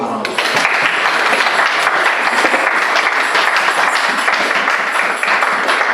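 A church congregation applauds, loud and sustained, with many hands clapping in a dense, even wash that stays steady throughout, with voices mixed in.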